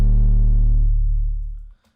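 A long 808 bass sample for a dubstep drop: one sustained, loud, distorted low bass note with a gritty harmonic top that fades after about a second and drops out near the end.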